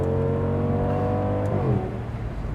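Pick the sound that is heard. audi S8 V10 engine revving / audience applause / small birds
audi S8 V10 engine revving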